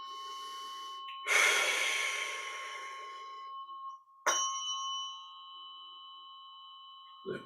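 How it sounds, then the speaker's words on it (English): One long, close breath drawn in and then released a few seconds later in a shorter exhale, set against a steady ringing tone with a bell-like chime near the end. "Take a deep breath in and breathe out"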